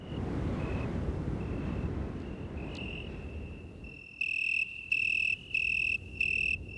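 Crickets chirp at night in steady pulsing trills, faint at first over a low rumble, then loud and close in regular bursts.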